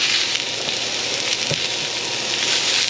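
Garlic and jalapeños sizzle steadily in a hot frying pan, a loud, continuous frying hiss with a brief stir near the middle and no talking.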